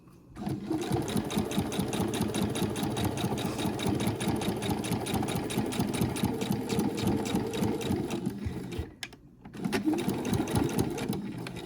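Sewing machine stitching a fabric zipper panel with two zippers, running steadily and up close with a rapid mechanical needle rhythm, pausing briefly near the end before resuming.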